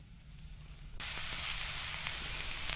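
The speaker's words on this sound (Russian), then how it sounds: "Отправляем их на сковородочку. Пускай потихоньку обжариваются." Mushrooms dropped into a hot frying pan at a campfire cooking spot, with a sudden burst of loud, steady sizzling after a quieter hiss, continuing close and unbroken with no talk.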